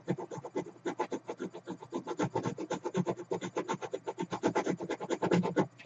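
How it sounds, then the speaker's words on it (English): Coin or fingernail scraping the coating off a scratch card, a rapid run of short rasping strokes, close and crisp, continuing without pause and with no voices. "I'm probably like scratching off the others"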